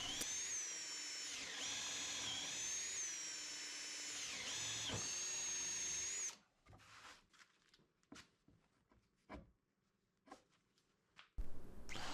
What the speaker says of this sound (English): I will drill in a 1/2-inch hole